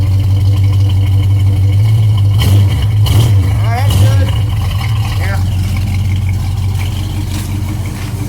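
A 1968 Ford Mustang fitted with headers idles with a deep, loud, steady rumble close by, briefly revving a few times while people talk over it.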